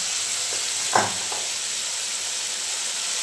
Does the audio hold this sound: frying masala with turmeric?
yes